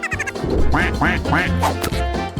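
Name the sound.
ducks quacking in a video game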